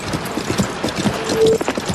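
Runaway horses pulling a wagon in a wagon train, hooves clip-clopping in a quick uneven rhythm with rattling wagon mechanics, loud and close.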